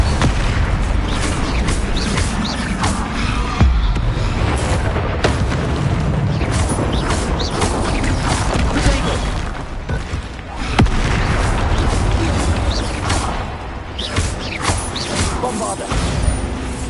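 Bombarda explosion spells cast in Hogwarts Legacy, a dense run of loud booming blasts and crashing debris that keep coming over the whole stretch, with brief dips between bursts.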